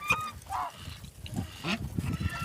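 A few domestic geese honk in short, nasal calls close by in a Ukrainian village on a frosty morning, with soft rustling and low background noise between them.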